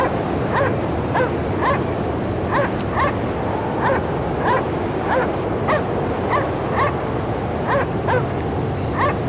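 A dog in the video game Cryostasis, set at a polar station, gives repeated short whimpering yips and barks at a steady rhythm over a loud, constant windy roar, with no talk.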